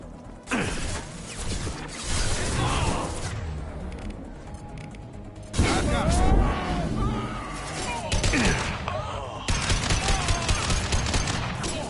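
A Mass Effect 2 firefight erupts in bursts of rapid weapon fire mixed with mechanical clanks and impacts, loud and close, with shouted voices in the fray and a brief quieter pause between volleys.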